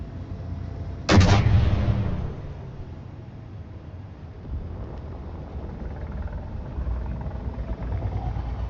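An artillery turret in a video game fires a single heavy, booming shot that rolls off into a fading rumble, followed by a low steady hum of ambient noise.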